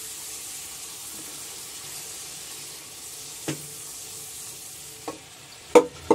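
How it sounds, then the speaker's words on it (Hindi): Ingredients fry in a pot for mutton stew with a soft, steady sizzle and hiss, followed near the end by a few sharp utensil clinks against the pot, and no one speaking. "और 1 से 2 मिनट इसको डाल के भून लेंगे।"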